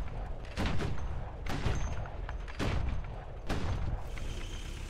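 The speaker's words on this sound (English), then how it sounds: "We'll just fire all 5 shots off in rapid succession" A 39M Csaba armoured car's 20mm autocannon fires in the War Thunder video game: several sharp, booming shots in quick succession, each with a heavy low thump and short decay, under a constant engine-like background rumble.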